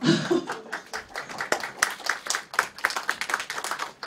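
A small group at a city hall press briefing claps for a few seconds, brisk uneven hand claps, fairly close, with no talking.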